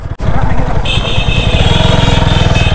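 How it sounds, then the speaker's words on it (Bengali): A motorcycle in second gear labours across sand with a loud, close, steady engine drone and rhythmic throb, a brief dip at the start, while someone talks over it. "আমি কিন্তু সেকেন্ড গিয়ারে বাইক চালাচ্ছি, বালির মধ্যে বাইক চালানো একটু কষ্টকর"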